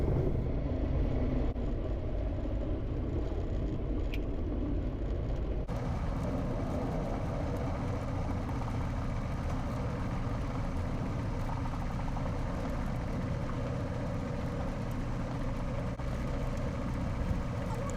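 A Van's RV-10 light aircraft taxies after landing on Jekyll Island with its engine droning steadily at low power, a loud, constant low rumble heard from inside the cabin throughout.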